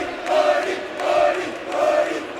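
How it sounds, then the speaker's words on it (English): A gym crowd cheers at a men's basketball game between Liberty North and Kearney, the noise swelling and easing in three loud waves of mixed voices filling the hall. "And you can hear them cheering right now."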